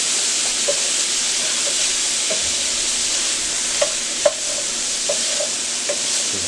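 Shrimp fried rice with onion is stirred in a hot pan, giving a steady, close sizzle with scattered scraping clicks from the utensil and a few louder knocks near the end.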